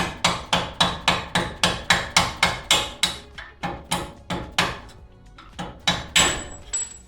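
A hammer strikes a lower shock bolt on a 5th-generation Toyota 4Runner in a rapid run of sharp, close metallic blows, about a dozen evenly paced, then a brief pause and a few more hits.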